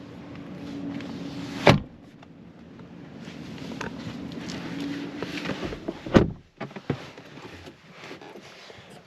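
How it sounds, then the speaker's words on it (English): A car's rear seat latch releases with a sharp click, followed later by a heavier thud as the seat folds down, among quiet shuffling handling noises inside the car. "You can fold down the rear seats with this latch right here, and it'll fold down pretty much flat."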